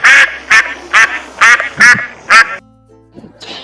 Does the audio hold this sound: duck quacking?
yes